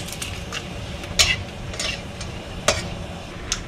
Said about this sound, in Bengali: প্রথমেই আমি এই তেলে অল্প একটু জিরে আর তেজপাতা ফোড়ন দিচ্ছি